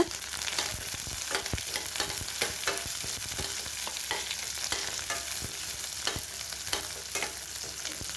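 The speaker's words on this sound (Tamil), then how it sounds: "எல்லாத்தையும் நல்லா வதக்கி விட்டுக்கலாங்க" Green chillies and garlic frying in a pan, a steady close crackling sizzle with frequent scraping stirs of a spoon throughout, no talk.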